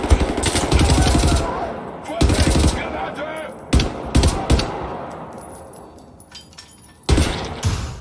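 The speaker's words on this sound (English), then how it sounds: "you can hear and feel the punch of every round leaving the barrel of the weapon." Weapon fire from the shooter game Wolfenstein: The New Order, with bursts of close, punchy automatic gunfire and single heavy shots in a steel-clad chamber, several separate volleys with short decaying tails.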